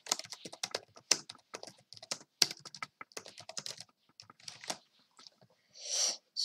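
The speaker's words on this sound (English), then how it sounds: "let's type hello, good luck all" Close, rapid typing on a computer keyboard in bursts of clicky keystrokes with short pauses, followed by a breathy exhale near the end and no speech.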